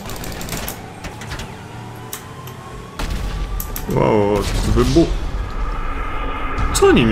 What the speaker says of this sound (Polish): Czy to była eksplozja mojego auta, czy czymś wybuchowym do mnie strzelili?